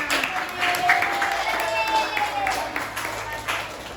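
A classroom gives light applause for student group 5 after their presentation during a primary-school lesson; thin, scattered clapping runs under children's voices and chatter.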